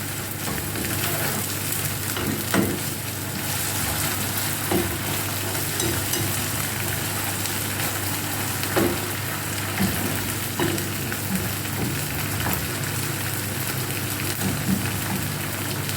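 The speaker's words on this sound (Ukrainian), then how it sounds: "Ну, і ось так хвилиночку ще прожарюємо." Steady, loud sizzling of vegetables frying in a pan for a cabbage soup base, with occasional stirring scrapes and clicks throughout, no talking.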